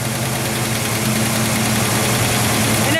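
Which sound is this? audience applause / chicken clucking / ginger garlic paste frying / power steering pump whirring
power steering pump whirring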